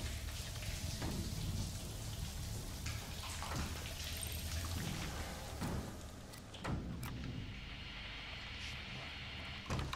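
Steady hiss of shower water running in a bathroom in the game Outlast 2, a constant splashing wash with a few faint knocks and a brief muffled voice under it.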